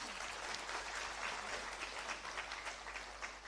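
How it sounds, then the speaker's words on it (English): An audience at a CSIR International Women's Day event applauds, a dense, even patter of many hands clapping throughout, moderately distant and continuous with no talk over it. "So huge round of applause."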